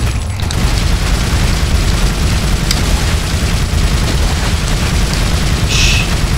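Gunfire and combat noise in the video game Resident Evil 4, a dense, loud continuous wash of shots and rumble with no pauses.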